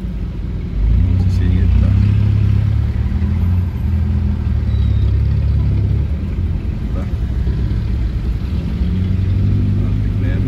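Traffic on a road in Baguio, with a busy, rumbling wash of car engines passing close by. A person talks over the traffic noise the whole time.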